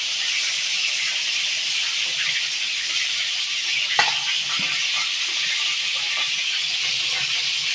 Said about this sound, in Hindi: आप इस तरह भी तेल में फ्राई करके कर सकते हो